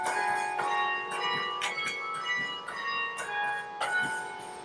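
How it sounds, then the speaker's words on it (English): Carillon bells of the KU World War II Memorial Campanile, each struck when a baton pulls a clapper by wires, ring out in a steady sequence of bright, resonant notes with long overlapping decays, played alone with no voices. "as I press down on a baton, a series of wires pulls a clapper into the side of the bell"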